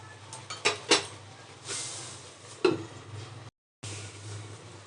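A lid lifted off a cooking pot of egg curry, with metallic clinks and knocks of pot and utensil close by and a brief dropout near the end.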